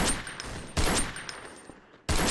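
Bursts of rapid video game gunfire in Trouble in Terrorist Town crackle in quick succession, loud and close, with short gaps between volleys.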